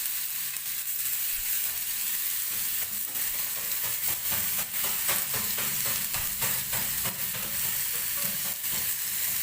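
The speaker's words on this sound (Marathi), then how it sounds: "हा जो आपण खिसलेला भोपळा आहे तो मी या तुपामध्ये टाकून घेते" Grated bottle gourd frying in ghee for a halwa gives off a steady, close sizzle with scattered stirring scrapes and clicks, no voices.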